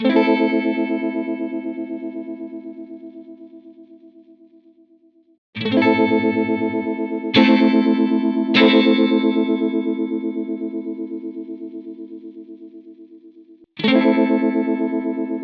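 Sustained electric guitar chords through a Helix swirl with a wide stereo chorus-like modulation, ringing out and decaying, with several fresh strums and long sustains in between.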